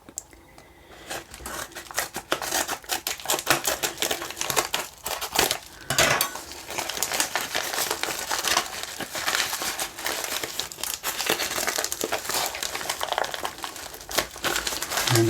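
Plastic wrap on a pre-recorded George Michael minidisc is cut and peeled away with scissors, producing close, continuous crinkling and crackling with sharp snips and rustles throughout.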